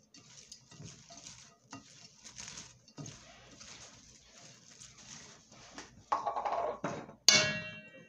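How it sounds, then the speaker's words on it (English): Grated carrot mixture stirred in a bowl, giving soft irregular scraping and light clinks, with a sharper, louder clatter of utensil against the bowl near the end. "let's get this stirred up a little bit"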